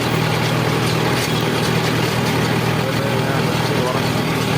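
Mahindra Yuvo Tech Plus 575 DI tractor engine running steadily on dry land while pulling a rotavator, a constant low droning hum with broadband noise, close and loud throughout, with no pauses.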